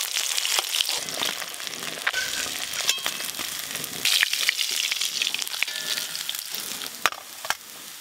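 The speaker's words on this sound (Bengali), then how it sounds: "এই মাছগুলো সব ভালো করে ভাজা হয়ে গেল।" Pieces of katla fish crackle and sizzle steadily in hot oil, with dense spattering and sharp pops close by, a few louder snaps near the end, and no talking.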